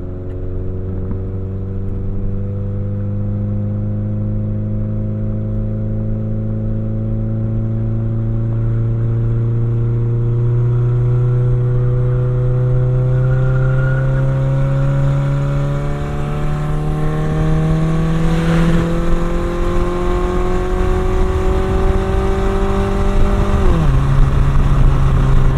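A Toyota Camry with its exhaust fallen off roars loudly up a highway on-ramp, its raw droning engine note climbing steadily in pitch for over twenty seconds before a sudden drop at a gear change, then continuing to pull.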